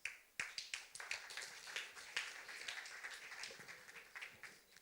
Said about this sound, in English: Let's give a huge round of applause to Eetu,